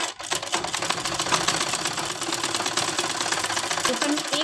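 A sewing machine running continuously up close while stitching salwar fabric for a school uniform, a dense, fast rattling whir that stays steady throughout without pause.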